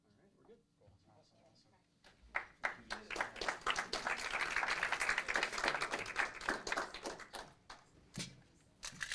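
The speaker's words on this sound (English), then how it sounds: "one more big round of applause for Kaiser" Audience at a city council meeting breaks into applause, quiet shuffling and a few taps at first, then a dense burst of clapping that swells and holds steady before tapering, heard from within the room.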